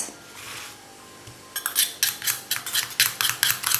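A utensil stirs a homemade hair gel mixture in a small container, starting with a quiet soft swish and then giving a close, rhythmic run of sharp clinks and taps against the sides at about two strokes per second.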